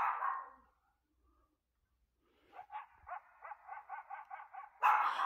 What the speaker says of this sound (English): Maybe that's a husky, y'all.